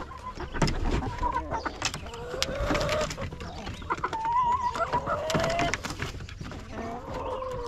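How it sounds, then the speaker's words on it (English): Chickens cluck and call repeatedly around a farmyard, a busy overlapping chorus of clucks and short squawks at close to moderate distance, with occasional louder calls. "the clucking."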